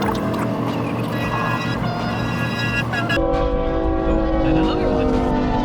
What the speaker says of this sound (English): Look for train at crossing.